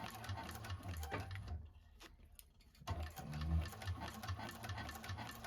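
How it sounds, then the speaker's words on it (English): A cylinder arm sewing machine stitches the top of a bag slip pocket in a rapid mechanical patter, pauses briefly partway through, then resumes at close range. "you're just going to sew the top of it at an 1/8 or 1/4 inch, depending on how thick your trim is on top"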